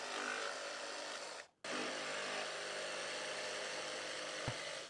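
A power tool cuts through bumper parts on a Subaru Crosstrek for a hidden winch mount, a loud, steady high-pitched whine that breaks off briefly and then continues.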